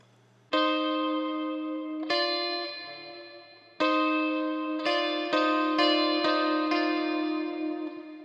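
Chiming harmonics ring out on an electric guitar through an echo effect, played with a flat pick and finger, several bell-like notes struck in sequence and overlapping as each one sustains and decays, close and clear.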